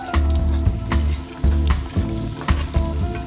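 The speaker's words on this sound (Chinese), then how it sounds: "然后下咖喱酱炒开" Curry paste is stir-fried in hot oil in a pan with lemongrass and curry leaves, a loud continuous sizzle broken by repeated scraping stir strokes, with no voices.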